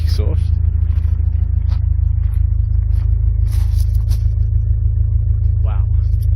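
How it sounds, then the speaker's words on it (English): Ferrari 550 Maranello, a 1999 car, idling while parked with its exhaust heard from behind, a deep steady rumble running throughout under brief scrapes, clicks and handling noises. "just get out and go around the back and have a listen to the exhaust"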